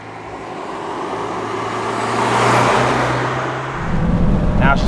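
A stock 1996 Ford Escort RS Cosworth drives along while warming up, its engine a steady, moderately loud drone that swells and eases slightly before a rougher, louder rise near the end.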